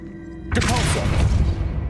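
A Depulso spell cast in Hogwarts Legacy strikes with a sudden thumping crash partway in, followed by a sustained rumbling, clattering impact that stays loud to the end.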